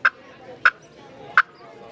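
Three sharp, evenly spaced clucks struck on a walnut slate turkey call, each a crisp short pop with quiet pauses between, close and clear with no talking.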